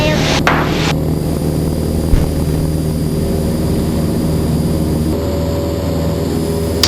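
A Cessna 172 light aircraft's propeller engine drones steadily and loudly at close range as it takes the active runway, a constant low hum with a brief thump partway through.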